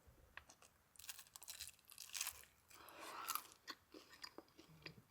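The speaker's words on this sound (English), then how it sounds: "all of you with misophonia who don't like to hear chewing" Someone chews crunchy food while overlanding in Sonora, Mexico, with close, repeated crisp bites and crunches in irregular bursts over several seconds and no talk.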